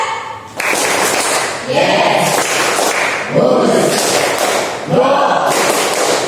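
A class of counseling teacher trainees claps in unison in short, loud bursts of rapid hand claps separated by brief pauses, with voices shouting along.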